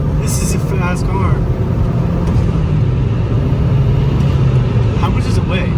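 Chevrolet Cobalt SS, a light, fast sleeper compact, driving with a steady low engine rumble and road noise throughout, heard from inside the cabin with people talking over it.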